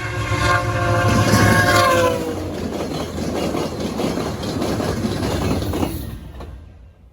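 An Athearn Genesis SD70ACU model locomotive in CP veteran unit livery runs with its sound system on, a loud horn blast at first, then steady rumbling engine and rail noise that cuts off at the end.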